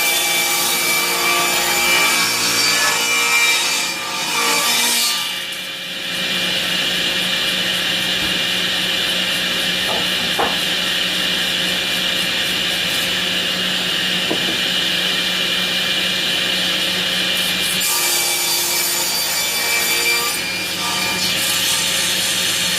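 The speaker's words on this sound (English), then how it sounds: "let's get cross-cutting these. I'm going to pull the cross-cut sled down and we'll get going" Table saw cross-cutting wood panels for a coffee table with a cross-cut sled, a loud sustained whine running through the whole stretch with brief dips around passes, no talking.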